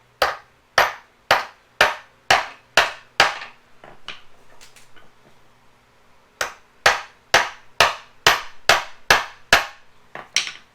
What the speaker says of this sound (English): I'm going to use the side of my hammer and just gently tap it in.